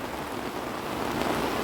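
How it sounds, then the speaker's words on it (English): Steady, heavy rain pours down in a jungle near a farm house, a dense, continuous hiss with a low rumble underneath and no voices. "So we're in the jungle here and it's raining."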